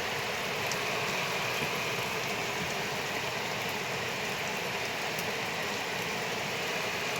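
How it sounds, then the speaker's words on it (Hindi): Heavy mountain rain pours down in a constant dense hiss, steady and unbroken throughout, with a faint low hum beneath and no talking. "बाहर इतनी खतरनाक बारिश पड़ रही है"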